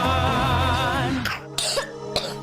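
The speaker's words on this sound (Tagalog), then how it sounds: "Ubo ng anak? Nakababahala? Baka plema." A child in a Plemex for Kids cough syrup ad coughs close and loud three times in short separate bursts, following a stretch of music.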